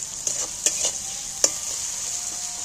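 Onion and whole garlic cloves frying in oil in a pan, a steady high sizzle with a few sharp clinks and scrapes of stirring, close and fairly quiet.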